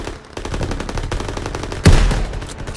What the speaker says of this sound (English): MGs, open fire!